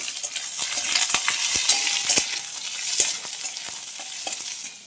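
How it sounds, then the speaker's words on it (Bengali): Onion frying in oil in a pan for chicken tehari: a steady, loud sizzle fills the whole stretch, broken by occasional light scrapes and clicks of a stirring spoon against the pan, with no voices. "পেঁয়াজটা একটু ভালো করে ভেজে নিই"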